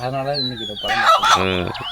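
A country hen clucks close by in a quick series of throaty calls, loud and clear, with a brief squawk in the middle.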